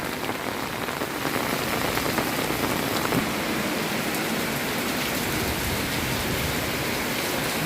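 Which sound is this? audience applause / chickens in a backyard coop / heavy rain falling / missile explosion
heavy rain falling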